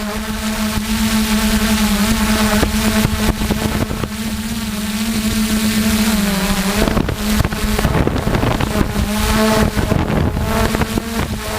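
Motors of a Q450 quadcopter whine in a steady, loud tonal hum during a manual landing, the pitch dipping slightly before the sound turns rougher and gustier with wind noise.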